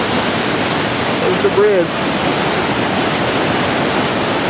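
The Fuji River in Japan rushes in a loud, constant broadband roar heard from near a bridge, with a voice speaking briefly over it.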